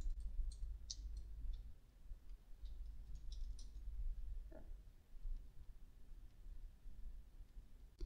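Computer mouse clicking, a few faint, sharp, isolated clicks spaced irregularly over a quiet low background.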